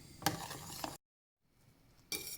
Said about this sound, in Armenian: Դնում եմ գազօջախին, անընդհատ խառնում եմ, մինչև ստացվի մեր փայլուն ջնարակը։